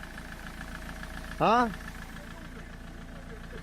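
A car engine idles steadily and evenly after a loose screw is tightened, a low continuous rumble running under the whole clip, broken briefly by a short spoken exclamation.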